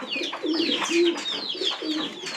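Pigeons in a loft coo close by, their soft, repeated throaty calls rolling in quick succession with faint fluttering and chirps layered in.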